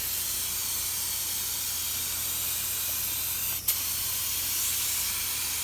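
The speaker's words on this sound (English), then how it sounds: "That's just some lacquer thinner, but that's showing the spray pattern." A spray gun sprays lacquer thinner to show its spray pattern, giving a steady close hiss throughout with a brief pause and a sharp burst partway through.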